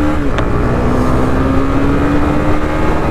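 A Honda CB300R motorcycle accelerating hard, its engine a loud, steady, close roar with the pitch climbing through the revs and dominating throughout, no voices.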